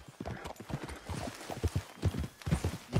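Horse hooves clip-clop in Red Dead Redemption 2, a steady walking rhythm of muffled thuds sounding close and continuous for the whole stretch, with no talk over them.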